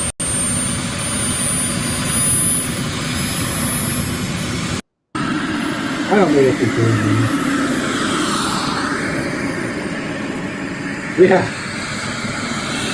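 A large RC model jet flies over a small field with a constant loud turbine roar and whine. People talk briefly and sparsely over the engine noise outdoors.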